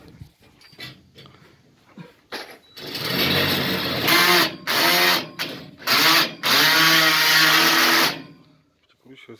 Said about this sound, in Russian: Прикручивается с другой стороны.